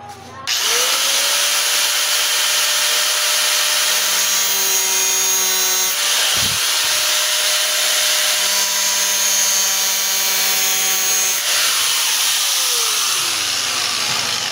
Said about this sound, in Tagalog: Gagawin natin, gagrindiran lang natin.